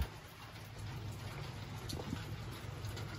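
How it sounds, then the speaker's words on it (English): Steady outdoor rain patters continuously on surfaces near some steps, a dense even hiss with scattered nearer drops throughout and no voices. "I can't go down the steps because I'm gonna be rained on."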